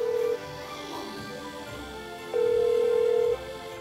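A telephone ringback tone plays while a Korean TV host phones his brother, two steady electronic beeps, one short at the start and a longer one near the end, separated by a quiet gap.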